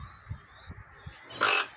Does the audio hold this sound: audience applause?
no